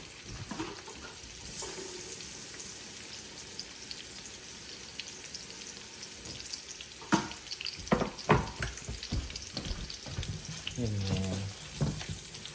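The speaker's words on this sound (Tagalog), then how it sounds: "susutay lang natin siya hanggang sa mag-translucent" Onions sauté in a pan for soupy pancit with a soft, continuous sizzle, and a spatula clatters and scrapes louder in the second half.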